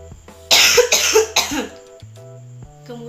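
A person gives two or three forceful deliberate coughs in quick succession, loud and close, then pauses with only faint background hum.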